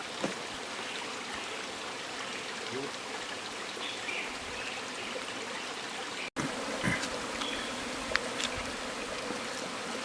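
A dense, steady hum of many bees buzzing close by around a beehive at Tipaerui, with a faint watery hiss and occasional small knocks.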